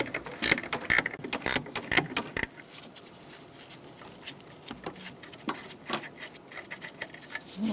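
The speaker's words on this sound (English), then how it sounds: "So now that I've cracked that loose, I'm going to do the rest with this ratchet wrench." A ratchet wrench clicks while loosening the master cylinder nut on a 1998–2011 Ford Ranger. A quick burst of sharp ratcheting strokes comes first, followed by sparser, quieter clicks and metallic taps close by.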